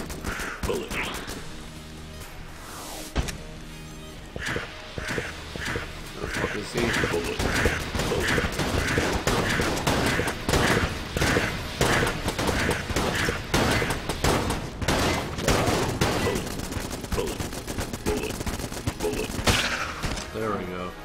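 Rapid, continuous volleys of gunfire from the video game Enter the Gungeon rattle on for about twenty seconds, dense and busy, with occasional louder hits among the stream of shots.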